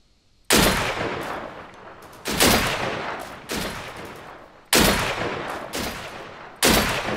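Gunfire in the survival shooter game Deadside: five loud, sharp bursts spaced a second or two apart, each trailing off in a long echoing decay, with no talking.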